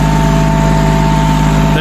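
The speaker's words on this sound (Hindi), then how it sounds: "कितने आराम से ट्रैक्टर रिवर्स में ऊपर जा रहा है।" A John Deere 5105 4x4 tractor reverses uphill pulling a trolley, its engine a loud, constant diesel drone that stays unbroken from start to finish.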